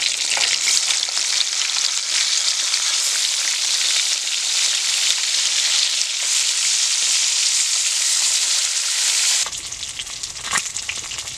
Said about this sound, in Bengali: তেলটা গরম হয়ে গেছে, আমি লবণ আর হলুদ মাখা মাছগুলো দিয়ে দিব